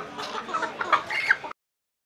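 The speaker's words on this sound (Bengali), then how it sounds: "পুরোটাই কিন্তু মুরগির বাজার।" Chickens at a city poultry market in Bangladesh, a close cluster of busy clucks and squawks for about a second and a half before cutting off.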